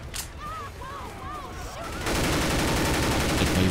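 Dense, continuous gunfire in a modded Left 4 Dead 2 match, loud and sustained in the second half, preceded by voices and game sounds.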